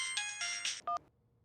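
A phone ringtone in the Indian TV sitcom Bhabi Ji Ghar Par Hai plays a short electronic melody of bright beeping tones, a few quick notes ending in a final chirp before cutting off to silence.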